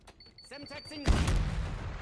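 Semtex grenade in Call of Duty blowing up, a single heavy boom with a rumbling tail after brief game voice chatter.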